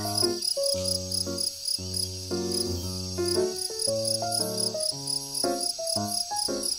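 Male crickets chirp in a steady, shrill pulsing trill that carries through the whole stretch, loud and near, over an undercurrent of layered tonal background sound.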